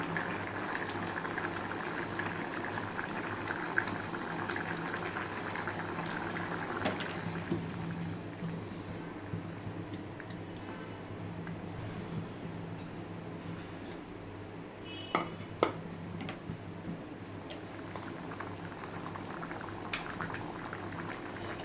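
Drumstick egg curry bubbles steadily in a pot, a soft continuous simmer with faint pops and a few small clinks near the end, heard alone without talk.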